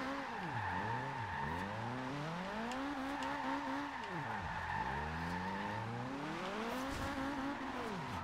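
A Subaru BRZ drift build in Forza Horizon 2 slides with a continuous loud tire squeal and a revving engine whose pitch swoops up and down repeatedly through the drift, with no talk.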